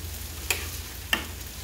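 Pasta noodles with orange peppers and onions frying in a pan, a soft continuous sizzle with two brief stirring clicks, close and quiet.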